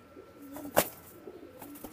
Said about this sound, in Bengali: এক জোড়া কবুতর দেখেন, আমি ছেড়ে দেখাচ্ছি,